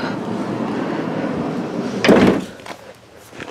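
The heavy, unpowered sliding door of a 2020 Ford Transit 350 Low Roof van slides along its track with a loud rumbling scrape, then thuds to a stop, followed by quieter shuffling.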